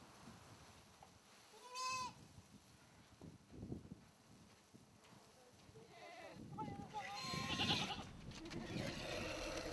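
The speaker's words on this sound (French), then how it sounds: "pour la traite de ses chèvres avant leur dispersion dans les pâturages" Goats in a nomadic desert camp bleat around the 5 a.m. milking, two distinct calls, one early and one later, under soft ambient noise and low human voices.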